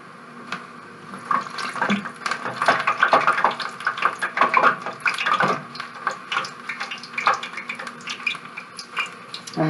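Funnel cake batter poured into hot grease sizzles and crackles loudly, a busy, irregular bubbling spatter that swells and fades over several seconds with no voices.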